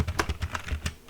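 A computer keyboard clicks as a file name is typed, a quick close burst of about seven keystrokes with no talking.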